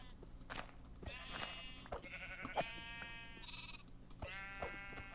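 Sheep in Minecraft bleating several times in short, wavering calls spread across a few seconds, fairly quiet over a low background hum, with no talk.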